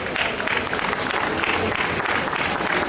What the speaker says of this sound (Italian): facciamo un applauso per ringraziare tutte le realtà commerciali che hanno contribuito alla nostra